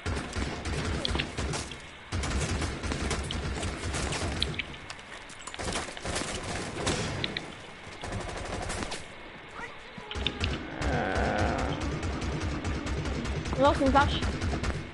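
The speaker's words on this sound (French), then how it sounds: "Il arrête pas de tirer, ça fait full de bruit" Rapid machine-gun bursts and scattered gunshots fill a video game firefight, loud and nearly continuous with short pauses, while someone talks over the shooting.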